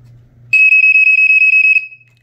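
A loud, shrill GE-style smoke alarm sounds a rapid warbling tone, pulsing steadily for over a second before cutting off, after a brief low hum.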